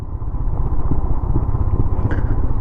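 A motorcycle engine rumbles loudly and continuously, chugging and rattling close by as it rides over a rough dirt trail near Kulekhani, Nepal.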